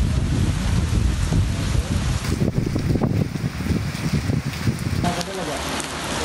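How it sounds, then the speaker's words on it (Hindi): Strong storm wind roars and buffets steadily during a rainstorm in Islamabad, a loud, dense rush with gusty swells that eases slightly toward the end. "काली घटाएं, तेज हवाएं और बारिश।"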